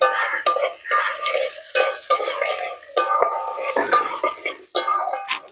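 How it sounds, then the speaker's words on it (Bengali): A spoon scrapes and stirs garlic, onions and whole spices such as cloves, cinnamon and cardamom frying in oil in a pan. The stirring comes in repeated bursts over a light sizzle, with occasional clinks against the pot. "আমি রসুনগুলো পেঁয়াজের সাথে ভেজে নেব"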